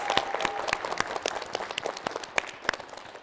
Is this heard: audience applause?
yes